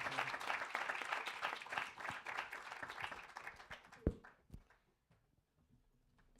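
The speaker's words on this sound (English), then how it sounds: "Big round of applause for you all." Applause from attendees at a sports psychology congress, dense clapping that gradually thins to a few scattered claps before falling quiet.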